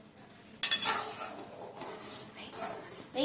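Utensil scraping and clinking against a pot as boiling Maggi noodles are stirred, with short bursts of metallic scraping, close and fairly loud.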